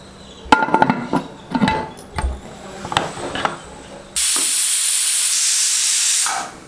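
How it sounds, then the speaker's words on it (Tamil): A few kitchen clinks and clatters, then a pressure cooker cooking green gram with drumstick lets out a loud, sustained steamy hiss for about two seconds before cutting off. "இப்போ ரெண்டு விசில் வந்துச்சு ஆஃப் பண்ணிட்டேனுங்க"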